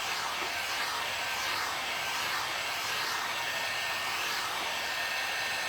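Hair dryer blowing steadily while drying a DIY lemon tray craft project, a loud, continuous close-up whoosh that holds at an even level throughout, with no talking.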